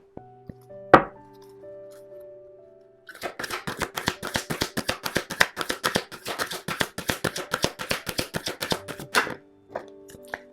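A deck of tarot cards is shuffled close by in a quiet room: one sharp snap, a pause, then a long run of rapid riffling card flicks, ending with a few scattered taps.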